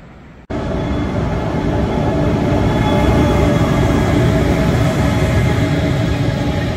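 A train from Busan International Airport heading to Busan, a loud steady rumble and roar that starts abruptly after a brief quiet moment and holds constant, close and sustained with no voices.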